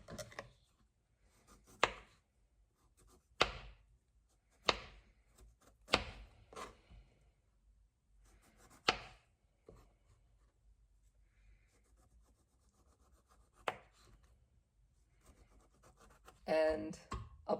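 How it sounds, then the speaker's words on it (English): Limes being peeled by hand, a series of sharp scraping, tearing strokes spaced a second or two apart over near silence, ending in a longer rustling burst. "And now I'm gonna remove the skin from these limes."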